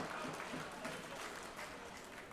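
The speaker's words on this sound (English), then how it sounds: "Give that man a round of applause." Applause in a car auction room after a winning bid at a live classic-car sale, a dense, even round of clapping from the seated crowd, heard at moderate distance.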